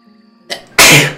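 A single person sneezes loudly and very close, a short sharp intake leading into a forceful burst that trails off quickly, after a near-silent moment.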